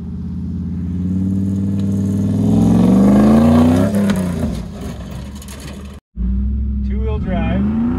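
A Dodge Dakota two-wheel-drive pickup stuck and spinning its wheels, its engine roaring loud and close as revs climb and fall, a brief cutout, then revving again, with someone talking over it.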